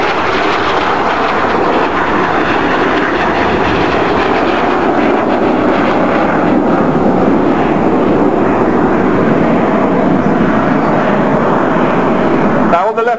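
RAF Red Arrows jets fly low over the water in a carousel manoeuvre at the Bournemouth Air Festival, making a loud, sustained roar that fills the whole stretch, with a voice talking underneath.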